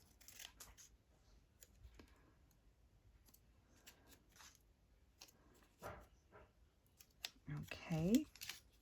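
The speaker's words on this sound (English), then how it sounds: "those are easy to cut out" Scissors snip out stamped paper labels in scattered, quiet cuts with paper handling, while someone talks softly over them; a louder rustle comes near the end.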